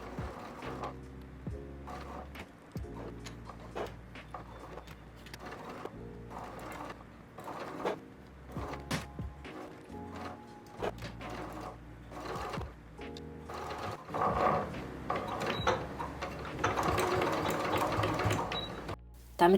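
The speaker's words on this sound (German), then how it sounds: "Nähe die Tasche jetzt mit einem Geradstich an und versuche dabei ganz knappkantig zu nähen." A sewing machine runs in bursts of straight stitching as a patch pocket is sewn close to the edge onto a loose blouse, with steady mechanical whirring and pauses between runs.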